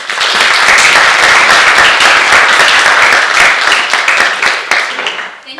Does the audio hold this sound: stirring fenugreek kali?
no